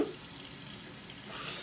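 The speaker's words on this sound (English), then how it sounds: "Yes, the water is running" Tap water runs steadily from a faucet into a sink indoors, a continuous soft hiss and splash heard alone at moderate level throughout.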